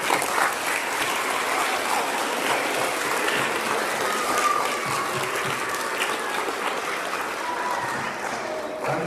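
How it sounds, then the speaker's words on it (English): Sustained applause fills a room at a DARE graduation ceremony, many hands clapping in a thick, steady roar that stays loud for the whole stretch with no speech over it. "So if we could just give her a big round of applause."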